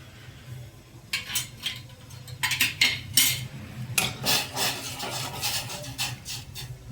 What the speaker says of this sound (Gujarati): વચ્ચે વચ્ચે ચમચો ફેરવતા રહેશું